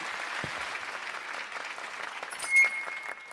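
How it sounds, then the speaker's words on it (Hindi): Applause from a crowd, a faint, steady patter of many hands clapping throughout, with a brief louder swell near the end. "तालियां"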